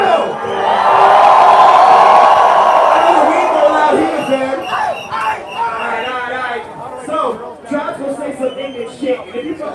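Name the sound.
crowd cheering and screaming at live show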